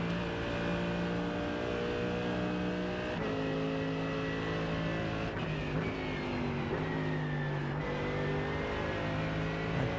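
A race car on a lap at Canadian Tire Motorsport Park holds a loud, steady engine drone, pitch rising and dipping with shifts and lifts through the corners, constant throughout with no speech.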